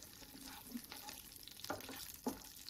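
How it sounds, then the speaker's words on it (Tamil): Cardamom, cloves, fennel and cumin fry lightly in oil with a soft, faint sizzle, broken by a couple of small clicks and pops from stirring. "இது எண்ணெயில் லைட்டாக பொரியட்டும்"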